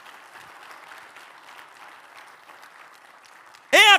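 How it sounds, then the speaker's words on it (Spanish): A church congregation keeps up a soft, continuous wash of applause heard at some distance, ending in a sudden loud, close voice burst. "Denle un aplauso al Señor."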